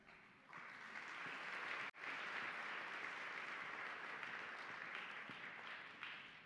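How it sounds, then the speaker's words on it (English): A university audience gives sustained applause for a provost at a human rights anniversary event. The clapping is steady and fairly faint, heard from a distance, with one brief dropout. "thanks for applauding a provost"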